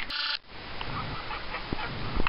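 A loud goose honk opens, followed by a steady outdoor rumble in a park with faint scattered calls of geese in the background.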